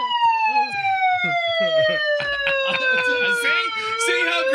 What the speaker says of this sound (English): put the megaphone down with the siren still blaring